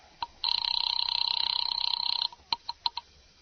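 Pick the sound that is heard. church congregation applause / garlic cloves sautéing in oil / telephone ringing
telephone ringing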